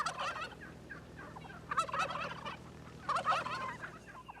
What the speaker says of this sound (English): The real wild turkey is a far more graceful creature than either the barnyard or game farm breeds.